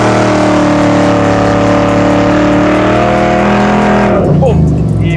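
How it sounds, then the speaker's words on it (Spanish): A car engine revs hard in third gear while drifting, a loud, close, sustained roar that climbs in pitch and then drops sharply near the end. "metemos tercera, una marcha en la que el coche tiene par y subimos de revoluciones"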